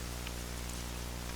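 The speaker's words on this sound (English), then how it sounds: "the drumming of the rain" Steady rain drums on a metal roof during a storm, a dense continuous patter that stays even and fairly loud throughout, with no voices.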